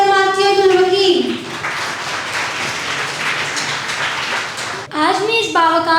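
Audience applause fills an assembly hall during a children's (Naunehal) assembly session in Lahore, a steady broadband wash of clapping between stretches of someone speaking over a microphone at the start and end.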